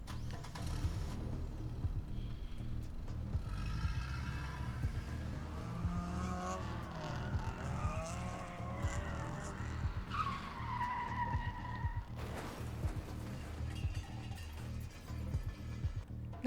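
Tires skid and squeal through a car crash sequence in the video game The Book Walker, a long rising screech over a rumbling engine bed, loud and continuous before an abrupt cut near the end.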